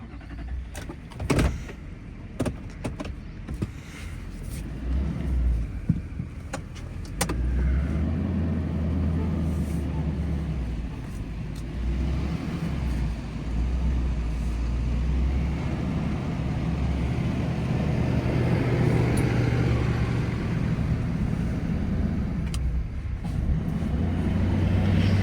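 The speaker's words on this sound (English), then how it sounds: "Then I need to take this up the road and turn it around." A vehicle towing a trailer on a narrow road, with clunks and knocks early on, then a steady low engine rumble and road noise as it drives and turns around.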